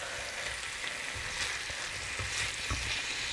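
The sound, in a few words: chicken frying and being stirred on a tawa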